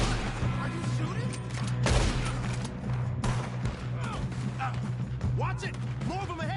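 Gunfire in Red Dead Redemption 2 during a shootout, scattered shots and crashes at moderate loudness beneath ongoing character dialogue and a steady music bed.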